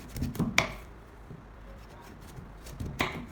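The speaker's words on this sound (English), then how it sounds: "Then, cut the pumpkin into smaller pieces." A knife cutting a pumpkin into smaller pieces on a board, a couple of sharp, close chopping thuds separated by a quiet pause.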